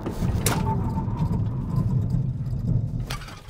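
A Volvo EX40 brakes hard during a brake test, a steady loud rumble of tyres and road noise inside the car with sharp thumps near the start and end.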